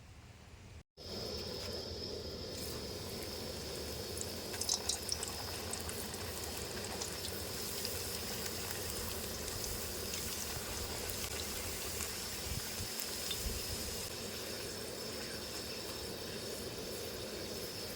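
Sliced potato chips frying in hot oil in a village kitchen, a steady close bubbling sizzle that continues without break after a brief opening cut.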